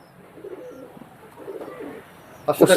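High-flying pigeons offered for sale coo softly in low murmuring phrases, faint and close, with quiet talk in the background. A sudden louder burst of clattering or flapping comes at the end.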